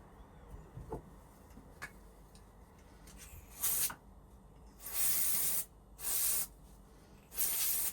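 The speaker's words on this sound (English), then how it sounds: "It's a 4-in-1. It says it cleans dirt and debris from the blades, lubricates for smoother running, cools them down if they're hot, and disinfects." A 4-in-1 cleaning spray hisses onto dog clipper blades in four short bursts, the last three longer, close and clear after some quiet handling noises.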